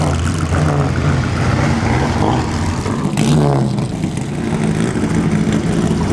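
A Ferrari, number 98, at a classic car concours, its engine rumbling and revving loudly and steadily nearby over crowd noise throughout.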